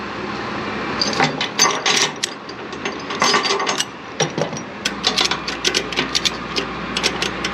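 A ratchet strap with a chain on its underside is cranked tight, giving a close, steady series of sharp mechanical clicks from the pawl that continues throughout, with no voices.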